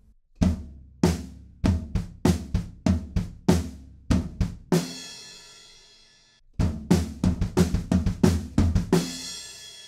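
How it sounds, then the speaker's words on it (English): Drum beat from a song with quarter-note floor tom in place of hi-hats, plus kick and snare; steady punchy hits, a crash ringing out in the middle, then the pattern resumes, loud and close, with no voices. "the second one is pretty much just the beat with a quarter note floor tom instead of hi-hats"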